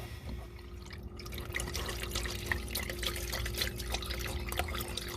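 Old engine oil from a classic car drains out in a steady, continuous liquid trickle and splash, close and moderately loud, with no talking.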